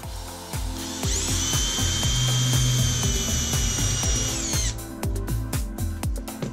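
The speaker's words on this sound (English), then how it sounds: "Plus it helps to pre-drill so we don't split this out." A power drill pre-drills screw holes in a wooden countertop for an RV island extension: a high whine spins up, holds for about four seconds, then winds down, with clicks and short bursts before and after.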